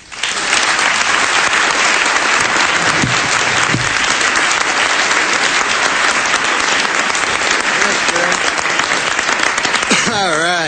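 A large banquet audience applauding to welcome comedian Norm MacDonald to a roast, a dense continuous wall of clapping, loud and sustained throughout, with a voice coming in at the very end.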